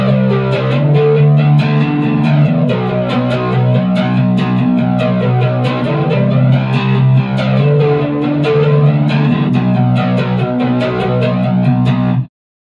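An electric guitar played through a flanger combined with distortion holds a thick, gritty chord whose tone sweeps up and down for about twelve seconds before cutting off abruptly, loud and close.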